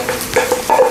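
Garlic and mushrooms fry in a pan while a utensil stirs them, giving a close, brief sizzle broken by a few scraping clicks, with no talk.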